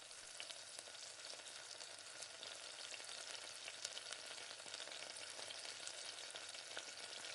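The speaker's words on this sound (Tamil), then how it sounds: "இப்போ வாழைக்காய் வந்து ஒரு 2 நிமிஷம் வேகட்டும்" Raw plantain fries in a pan on the stove, giving a soft, steady crackling sizzle throughout with no speech.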